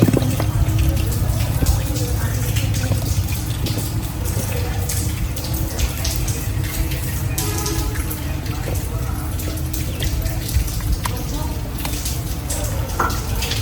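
During heavy rain, rainwater flows steadily into a building in Gujarat, India, making a continuous rushing, splashing wash, while people talk nearby over the water.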